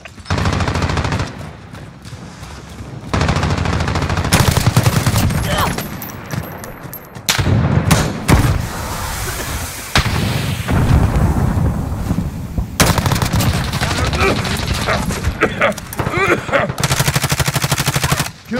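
Rapid automatic gunfire and bursts of shots in Call of Duty Modern Warfare team deathmatch, loud and sustained with brief pauses, dense layered firing and explosive impacts throughout.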